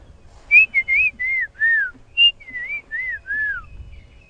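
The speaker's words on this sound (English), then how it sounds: "There's that beautiful bird called the black-crowned chagger that I mentioned earlier" A black-crowned tchagra calls in the African bush at sunrise, a clear series of about nine loud, sliding whistled notes in an uneven rhythm against a quiet background.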